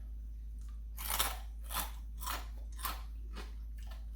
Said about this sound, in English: Just the skin.